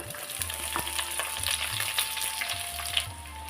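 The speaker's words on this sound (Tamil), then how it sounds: "காய்ந்த மிளகாய் கறி லீஃபையும் போடுவேன் கட் பண்ணி வச்சுருக்கக்கூடிய வெங்காயத்தை எல்லாத்தையும் போட்டுடலாம்" Dried chillies, curry leaves and chopped onions fry in hot oil in a pan for a sardine fish curry, giving a soft, continuous sizzle with occasional stirring scrapes and clinks, faint and close.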